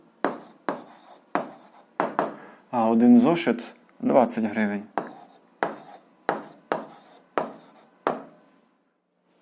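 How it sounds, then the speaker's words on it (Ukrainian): A pen writes on paper while an 8th-grade algebra exercise with a system of equations is solved: rhythmic, evenly spaced scratching strokes, with a brief stretch of speech in the middle. "Ну що ж, записуємо відповідь, пишемо відповідь."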